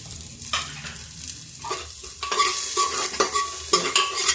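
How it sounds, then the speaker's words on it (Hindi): Chopped onion stirred into hot oil for a tadka for moong dal with bottle gourd, sizzling and crackling steadily with repeated scraping stirs, close and moderately loud, no voices. "अब इसमें हम डाल देते हैं थोड़ा सा प्याज"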